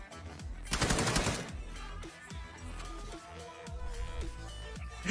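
Gunfire in the mobile battle-royale game PUBG Mobile, with a loud dense burst early on followed by scattered lighter shots.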